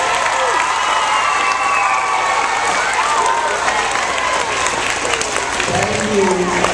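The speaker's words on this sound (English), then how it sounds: "let's give an applause for our band and orchestra and choir" Students at a school pep rally applaud the band, orchestra and choir with loud sustained clapping mixed with cheers and children's shouts, while adult voices carry over the crowd.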